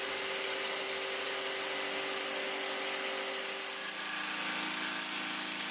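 Loud, continuous buzzing rasp of a Bosch jigsaw cutting wood with its dust extraction spout connected, steady throughout and close up.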